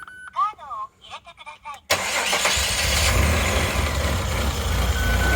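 A Mazda Bongo 2.5 V6 van with a misfire cranks and fires into a rough running engine after a short stretch of talking and some beeps, and the engine continues loud and steady to the end.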